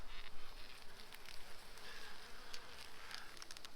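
Honeybees buzz inside an opened hive full of nectar and pollen, a continuous close, dense droning hum with small fluctuations and a few faint ticks, no voices.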